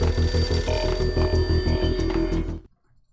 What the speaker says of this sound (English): why the payphone is ringing.